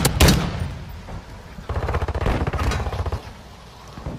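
Automatic gunfire in Call of Duty MW2 Search and Destroy, fired through a wall: a sharp opening shot, then a rapid burst of rattling rounds, fairly close, with no talk.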